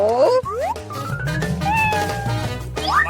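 A cat lets out several rising, drawn-out meows in quick succession, close and clear, with a brief pause in the middle.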